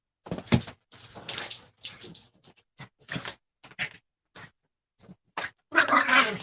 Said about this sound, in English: Nobody wants a dog who makes a bunch of noises all the time